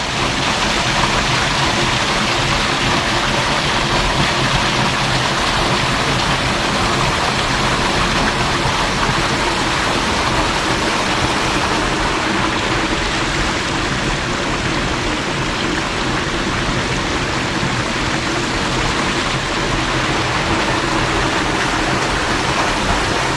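A waterfall at the Shiratakadaijin camping area roars in a constant, loud, full rush of falling water that fills the scene without a break, with no voices standing out.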